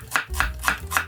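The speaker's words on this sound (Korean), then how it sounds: "채를 썰어 주시고요" A knife cuts half an onion into strips on a cutting board, four crisp evenly spaced chops ringing out close and clear, with no talking.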